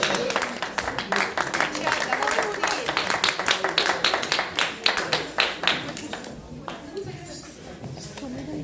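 An audience applauds at an event, with brisk, dense clapping that swells for several seconds and then thins out and fades, while voices can be heard faintly underneath.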